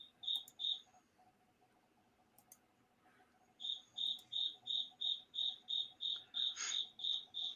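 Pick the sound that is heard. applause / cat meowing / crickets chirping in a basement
crickets chirping in a basement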